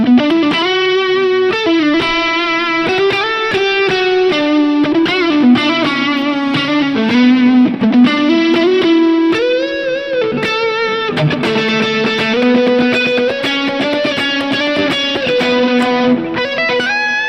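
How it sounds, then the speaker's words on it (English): Electric guitar with a single coil pickup through a high gain distorted amp tone, played as sustained chords and melodic lines, loud and continuous. "Here's like that same like single coil sound on that high gain, and it still sounds really good."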